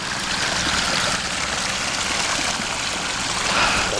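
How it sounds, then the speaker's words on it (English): Water from a small backyard waterfall spills over several stepped drops and trickles into a pool, a steady close splashing rush that holds evenly throughout with no voices. "First waterfall, then into another waterfall, then a slight downgrade, and then finally just a little bitty waterfall at the bottom down here"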